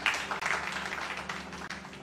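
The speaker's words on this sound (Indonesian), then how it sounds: "Berikan tepuk tangan." Church congregation applauding during a sermon, a dense, continuous wash of clapping from a crowd, fairly loud and close, lasting about two seconds with no speech over it.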